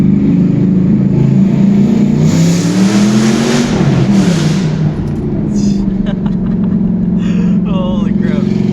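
A Jeep engine revs and accelerates close by, a steady loud drone that rises in pitch partway through, with a voice talking over it.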